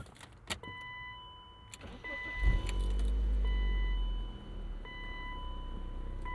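A 1996 BMW Z3 with a 1.9-liter engine and five-speed gearbox cranks briefly and catches with a loud, close surge, then settles into a steady idle.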